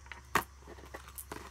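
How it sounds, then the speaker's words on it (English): Oversized tarot cards are cut by hand, giving a sharp close slap of card stock followed by faint soft shuffling and a few light taps, with no talking. "so I'm just cutting the deck."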